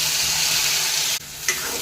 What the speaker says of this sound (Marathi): तेल सुटेपर्यंत आपण तेलामध्ये फ्राय करून घेऊया